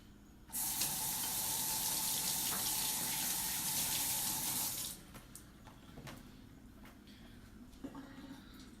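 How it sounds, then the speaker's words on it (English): Water runs from a tap in a steady close gush for about four seconds while hands are rinsed, then cuts off, leaving faint clinks and handling sounds. "I'm just going to rinse off my hands"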